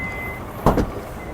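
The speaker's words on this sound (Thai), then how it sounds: "ประตูท้ายไฟฟ้าค่ะ ฟังก์ชันครบเลย เปิดปิดได้สะดวก" Power tailgate on a black Toyota Fortuner 2.4 V 2WD shutting, giving a brief, close double clunk against quiet background, with no talking.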